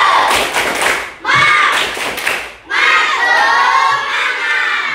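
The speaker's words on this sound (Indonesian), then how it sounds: "Coba sekarang kita tepuk semangat dulu biar semuanya semangat ya." Classroom children chant the tepuk semangat in unison, shouting together with rhythmic claps and thumps in three loud bursts separated by brief pauses.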